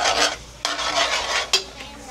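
Garlic being stirred in a hot pan for a seafood boil, with bursts of sizzling and a few scraping stirs of a utensil.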